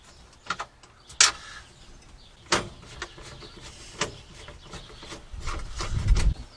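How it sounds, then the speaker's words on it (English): Phillips screws being backed out of a 1967 Chevy C50 truck's gauge cluster area, giving scattered short scrapes and clicks of the screwdriver with a louder rubbing rattle near the end, close and without talk. "we just go ahead with our Phillips and remove the Phillips screws"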